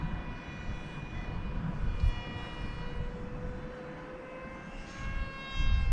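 Small 3D printed FPV flying wing passing overhead outdoors over a hill, its electric motor giving a steady whining drone with layered high tones that swell slightly near the end, with no talking.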